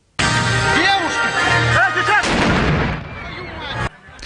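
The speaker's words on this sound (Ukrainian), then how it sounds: "офіційно відкрили ще й пострілом з гармати" A single loud cannon blast booms out at a festival opening in Kamianets-Podilskyi, followed by a rumbling echo that slowly fades; a voice speaks briefly before the shot.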